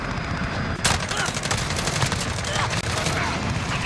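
Gunfire in the video game Modern Warfare: loud, dense automatic bursts crackle almost continuously, with no pauses.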